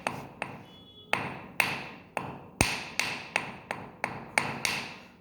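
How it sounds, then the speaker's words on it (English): A hammer repeatedly strikes zardozi wire laid on the floor to flatten it for petta work, sharp close knocks arriving in a steady rhythm, about a dozen ringing taps with no talk. "keep it on the floor and then you can beat it with the hammer just to flatten the wire"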